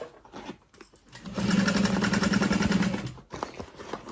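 A sewing machine backstitches a seam on a fabric bag, starting after soft handling noises with a short, steady burst of rapid needle whirring of almost two seconds, then stopping, followed by light rustling.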